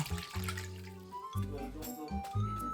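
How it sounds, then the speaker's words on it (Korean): Salted seaweed stems being rinsed in cold water in a sink, close splashing and sloshing in uneven bursts with brief pauses, as the stems are swished and washed. "씻은 미역줄기 찬물에 10분 정도 담가둔 후 헹궈 물기 빼주세요"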